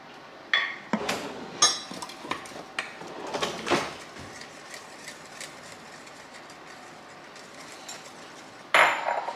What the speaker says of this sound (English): I'm gonna mix up the flour, baking powder, and table salt.